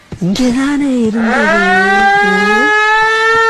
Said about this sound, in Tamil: என்னடா அது கிளம்பும் போது சங்கு சத்தம்?